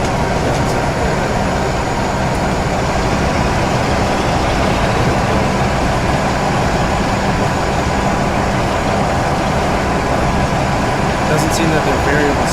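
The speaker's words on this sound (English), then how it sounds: "As I increase the engine speed, the wiper increases speed, which doesn't sound very good." A Class 47 diesel locomotive engine drones loud and steady in a train simulator game, with a continuous broadband roar and faint wiper strokes mixed in, no talk heard.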